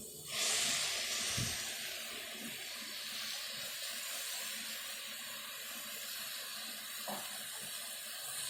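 A steady, loud hiss of ground tomato-garlic paste sizzling in a hot pan, starting abruptly and continuing throughout with a few faint clinks.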